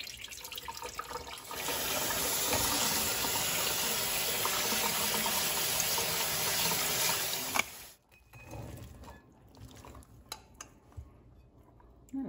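Running tap water pours over canned beans and corn in a strainer, a steady splashing rush for about six seconds that then stops, followed by faint clatters and handling noises.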